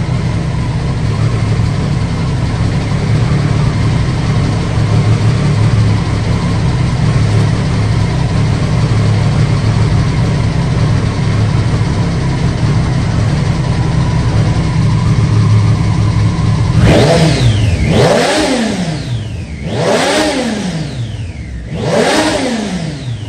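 A Mahindra Thar Roxx engine idles steadily for a long stretch, then is revved several times in quick succession, each rev rising and falling sharply, loud and close with no talking.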